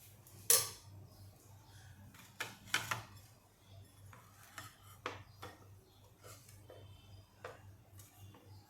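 Tomato saar is ladled from a pot into a serving dish: quiet, scattered metallic clinks and taps of a spoon against cookware, spaced irregularly, with no talking.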